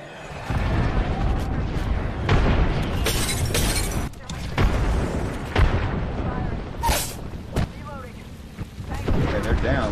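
Frag grenade explosions and gunfire in a first-person shooter video game, with sharp booming blasts and shattering crashes amid constant battle noise while players talk over it.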